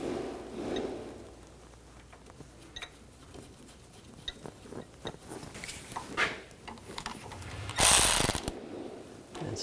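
A ratchet tightens a nut onto a sensor stud on the front suspension of a 2000–2006 BMW X5 3.0L, with quick clicking ratchet strokes and a louder metallic burst near the end, nearby and alone.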